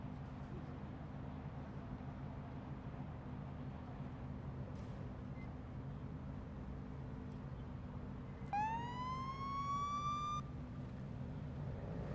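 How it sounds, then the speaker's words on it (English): Police siren from a patrol car in the video game Police Simulator: Patrol Officers, a short rising wail that sounds once near the end over a steady low engine and traffic drone. "if you do turn the siren on, you can kind of force them to go through on these lights"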